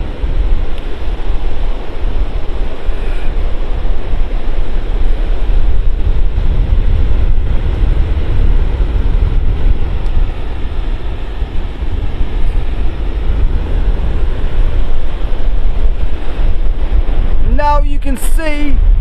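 Strong wind buffets the microphone on the seafront at St Leonards-on-Sea and Hastings, a loud continuous roar with surf rolling underneath, and a brief voice breaks in near the end.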